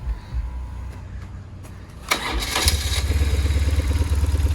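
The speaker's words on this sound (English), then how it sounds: "Purrs like a little kitten though. This bike runs so good." A BMW motorcycle engine cranks with a few clicks, then starts and settles into a steady, throbbing idle, loud and close.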